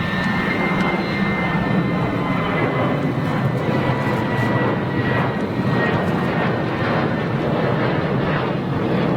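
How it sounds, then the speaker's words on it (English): A Jet2 Boeing 737 performs a go-around at Manchester Airport, its jet engines producing a loud, steady, broadband roar that holds for several seconds at close range, with no voices over it. "Jet 2 737 go around."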